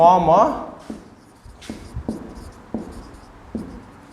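Writing on a board during a maths lecture on abelian groups: a series of distinct taps and short strokes spaced out over a few seconds, following a brief spoken voice at the start.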